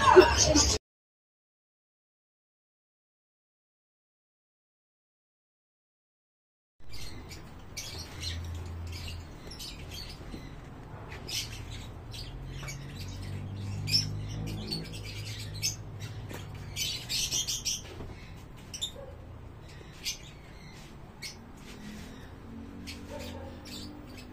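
Birds squawk and chirp at a Malabon pet market amid steady crowd bustle and chatter, the calls rising in scattered bursts over a low rumble after a brief silent gap.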